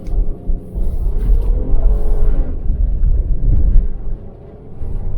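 A car with its safety systems switched off slides on snow at -7°, a deep rumbling engine and tyre drone rising and falling throughout, close and loud, with no talk.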